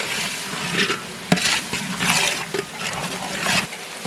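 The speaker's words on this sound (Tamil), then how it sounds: "இப்போ மசாலா சேர்த்தாச்சு நல்லா கலந்து விட்டுக்கலாம்" Spoon stirring ground masala, garam masala and turmeric into a vegetable and green pea biryani gravy in a pot, giving close, continuous scraping and soft wet sizzling with one sharp knock of utensil against the pan.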